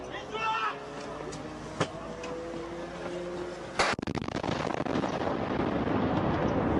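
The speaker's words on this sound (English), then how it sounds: "You notice how the light gets there before the explosion?" An explosion in war footage being played back: a sharp blast hits partway through and gives way to a rumbling, crackling roar, after earlier smaller pops over a low background.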